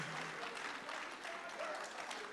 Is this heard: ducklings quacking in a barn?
no